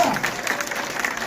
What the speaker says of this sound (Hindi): बताओगे ताली बजा के,